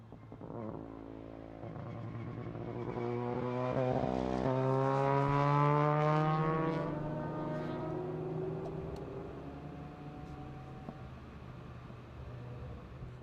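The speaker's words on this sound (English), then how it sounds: "It is manufactured by Mazda and produces a flame from the exhaust pipe while the driver is downshifting." A Mazda racing car downshifts with its exhaust spitting flames. A loud, rising engine roar swells as it passes close by, then the pitch drops away and fades over about thirteen seconds, with no talking.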